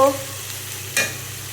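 Potatoes tipped into a pan of frying Bengali curry masala, a steady close sizzle with a short scraping clatter of the spoon stirring partway through.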